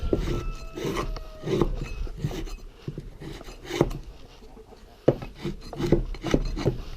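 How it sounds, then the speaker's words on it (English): A rigid paint scraper rasps droppings off a wooden chicken coop in repeated close, uneven scraping strokes, with a pause near the middle. "The easiest way to clean poo off of anything is just to get yourself one of these paint scrapers"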